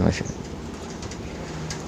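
Soft, low cooing of a zebra dove repeats under a steady noisy background, opening with a brief sharp knock.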